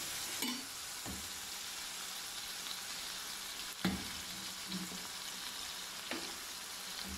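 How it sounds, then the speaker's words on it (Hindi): Mutton mince with capsicum fries in oil in a pan with a steady, even sizzle. Occasional soft scrapes and knocks of stirring sound close by, with no talking. "इसको अच्छी तरह भून के अच्छी तरह 10 मिनट तक भूनेंगे इसको अच्छी तरह से"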